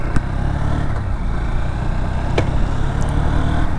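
Honda Hornet 2.0 motorcycle (2026 variant) riding along, a steady engine drone mixed with wind rush, loud and close throughout with a few brief clicks.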